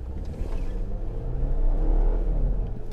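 A 2017 Volvo XC60's engine drones steadily inside the cabin, the low rumble swelling a little as it speeds up.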